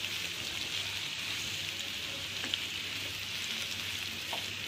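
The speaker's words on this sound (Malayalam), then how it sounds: "പഴം നല്ലോണം ഒന്ന് വാട്ടിയെടുക്കാം നല്ലോണം ഒന്ന് റോസ്റ്റ് ചെയ്യണം പഴം" Mashed banana roasts in a hot pan, giving a steady, soft sizzle and frying crackle at moderate volume with no talk.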